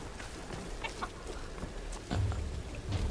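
A chicken in the Tomb Raider video game clucks in short, scattered bursts close by, set over a steady low ambient rumble, with no talk.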